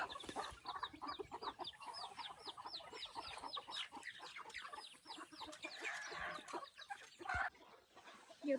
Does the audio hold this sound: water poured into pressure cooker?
no